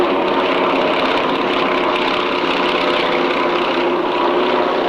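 A loud, steady propeller drone fills the air as an Antonov single-engine biplane passes over an airshow crowd at Fairford in 1995, the engine roar holding constant throughout.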